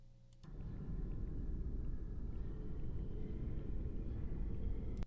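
A low, steady rumbling drone fills the space, dark and cavernous, with a faint hiss above it and no distinct events.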